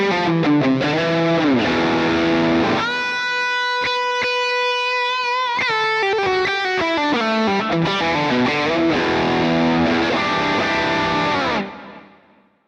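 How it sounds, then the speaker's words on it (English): Guitar through a Tone of Kings overdrive block, a King of Tone style pedal modeled in an Axe-FX 3, playing sustained distorted chords and a held single note, loud and continuous before fading at the end. "I've got this Tone of Kings loaded up, which is a King of Tone style pedal"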